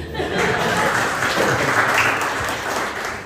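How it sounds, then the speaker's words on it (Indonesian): A church congregation applauds for about three seconds, sustained, moderately loud clapping that tails off at the end, with light chuckling mixed in. "Mari kita tepuk tangan."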